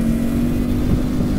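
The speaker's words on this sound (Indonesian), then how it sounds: "Knalpotnya seru banget." A motorcycle exhaust drones at a steady, loud rumble up close, holding a constant low engine tone with no clear rise in pitch.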